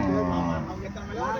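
A Holstein Friesian bull lows at a busy cattle market in Erode, giving a close, drawn-out moo with a rising and falling tone while people talk in the background.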